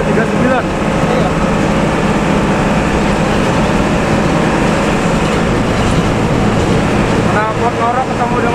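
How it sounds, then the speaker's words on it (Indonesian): Motorcycle exhausts, a snoring-style ngorok pipe alongside an SOS-type exhaust, roar loudly and continuously in a steady, rumbling drone with traffic-like noise throughout, and brief voices come through at the start and near the end. "Knalpot norok ketemu dengan knalpot sos."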